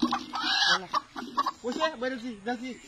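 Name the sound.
chicken clucking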